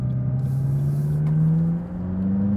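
McLaren 570S engine holding a steady, rising drone as revs build smoothly, loud and close, with no talk over it.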